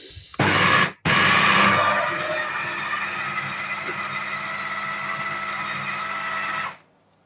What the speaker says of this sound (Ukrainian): Зараз я його запущу в блендер.